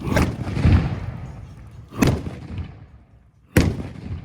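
Three sharp, loud booms from a carbide cannon spaced a couple of seconds apart, each cracking out over a rumbling outdoor background.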